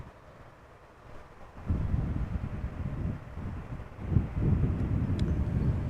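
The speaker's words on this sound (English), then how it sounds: "it is time for another Embraer 190, this one arriving from London City" An Embraer 190 airliner arriving from London City at Amsterdam Schiphol rumbles in from a distance, a low broadband roar that grows stronger and stays steady, with some wind noise on the microphone.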